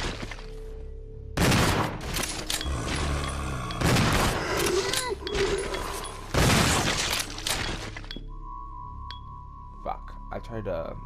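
Gunfire in Resident Evil 0 comes in several loud bursts of shots with shattering impacts, separated by quieter stretches, followed by a steady electronic tone near the end.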